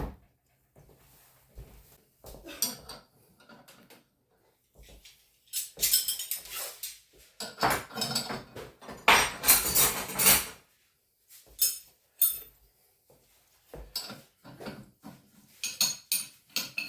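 A metal wrench clanks and rattles against parts while a Hu800awd engine is taken apart in a yard, in irregular bursts of close metallic knocks separated by quiet gaps, with no speech.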